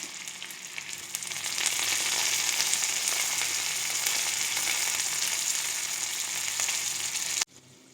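Chopped onion and curry leaves frying in a mustard seed tempering over a low flame, a loud continuous crackling sizzle that swells after the first second and cuts off abruptly near the end.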